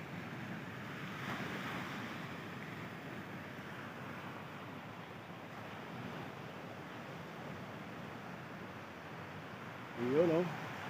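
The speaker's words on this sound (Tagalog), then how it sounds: "hampas ng alon sa Dalampasigan" Ocean waves roll and wash onto the shore at Patar Beach in Bolinao, Pangasinan, a steady faint surf with wind buffeting the microphone.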